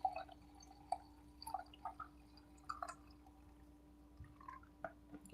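Coffee is poured into a cup, giving a faint, quiet run of trickles and scattered drips with no talking.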